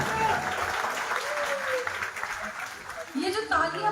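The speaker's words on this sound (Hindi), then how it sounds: "ये जो तालियां बज रही हैं" Steady applause from an audience at an IMC business event fills the clip, with a voice speaking over it near the end.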